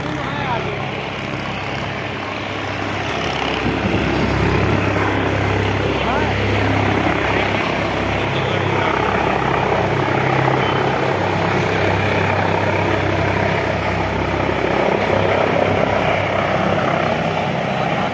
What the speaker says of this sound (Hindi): और ये देखिए सीएम योगी का ये हेलीकॉप्टर आ गया है।